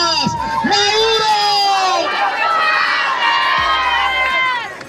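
A protest crowd in Bogotá chants and shouts against Maduro, many voices cheering together loudly and close, with some rising shouts and whistles layered over the din.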